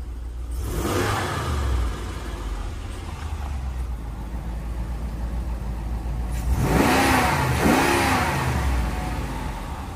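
A 2019 Dodge Ram Power Wagon with the 6.4-liter engine and about 65,000 miles runs with the AC off, a steady close mid-pitched rumble that swells into a louder rev near the end.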